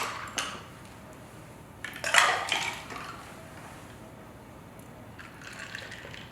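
Bloody Marys poured over ice into glasses, with a couple of bursts of liquid splashing and ice crackling, plus light clinks of glassware between pours in a quiet room.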